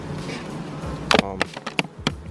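Honey bees buzz around feeders at beehives in Jamaica, a busy insect drone with brief louder bursts as bees pass close.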